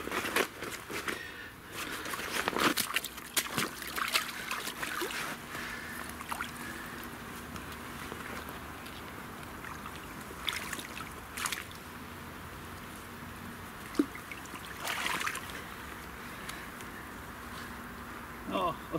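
A carp is lowered and released into a forest fishing pond, with water sloshing and splashing intermittently at close range while voices are heard nearby.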